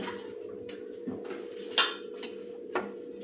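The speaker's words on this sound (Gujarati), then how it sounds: "આપણે આ રીતે બધા એક સાથે જારામાં લઈ લેવાના છે" A metal slotted ladle scrapes and clinks against a pan of hot oil while scooping French fries, producing a few soft metallic knocks over a steady low frying hum.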